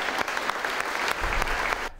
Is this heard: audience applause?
yes